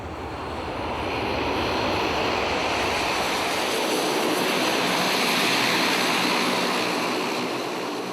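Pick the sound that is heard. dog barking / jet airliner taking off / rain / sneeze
jet airliner taking off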